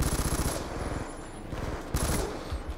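Automatic gunfire in the Black Ops 2 multiplayer video game: rapid, close machine-gun bursts rattle loudly, stop briefly in the middle, then resume for another short volley.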